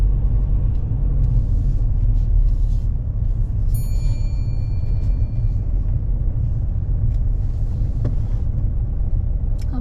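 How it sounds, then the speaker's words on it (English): A car on a driving test pulls over and parks at the right-hand roadside, its steady low engine and road rumble running throughout with no talk. "If you could just pull over and park on the right hand side of the road"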